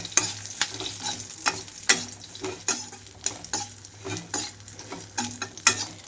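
Steamed bitter gourd pieces being stir-fried in a pan with cumin and curry leaves: a close spatula scraping and clattering at a brisk, uneven rhythm over a soft sizzle, with no voices.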